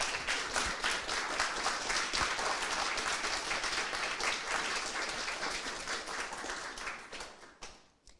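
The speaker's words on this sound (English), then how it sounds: "A round of applause if you want to." Audience applause after a talk at an EAGxOxford conference session, dense sustained clapping from a full room that holds steady for about seven seconds before thinning and fading out.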